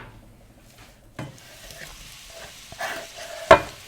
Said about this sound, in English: so I'm going to go ahead and add the onions